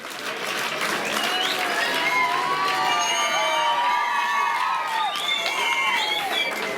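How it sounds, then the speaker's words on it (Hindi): Loud applause and cheering from a crowd of school children at a school science outreach event, steady and sustained throughout, with excited shouts and whoops rising above the clapping. "बहुत जोरदार तालियों से इनका अभिनंदन करें"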